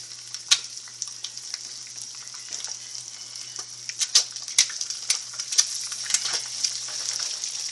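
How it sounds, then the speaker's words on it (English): Eggs frying in a pan, a soft continuous sizzle with scattered sharp pops and crackles, close and fairly quiet. "And the eggs are starting to fry."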